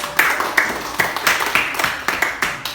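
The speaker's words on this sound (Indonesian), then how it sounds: "Mas tepuk tangan untuk Tasya" Sparse, rhythmic hand clapping from a small classroom audience applauding a student named Tasya, with about a dozen distinct claps spaced evenly and moderately loud.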